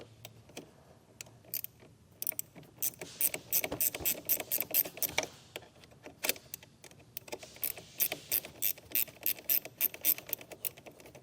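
A ratchet clicks in quick, uneven bursts while tightening a nut onto a wiring ring terminal during a vehicle trailer harness install, the sharp ticks close and bright over a quiet background.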